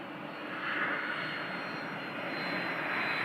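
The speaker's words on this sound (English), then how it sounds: "A Cessna Citation just landed runway 21." A Cessna Citation business jet lands on runway 21, its engine noise a steady broadband roar that holds fairly loud and even throughout, heard alone with no talk.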